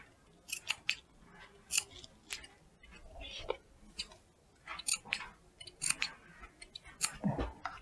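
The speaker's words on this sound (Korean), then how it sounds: "뽀글이천을 잘라줍니다" Fabric scissors snip through thick curly sherpa fleece while a crossbody bag is being made, a run of crisp, closely spaced cuts at close range, quiet, with no talking over them.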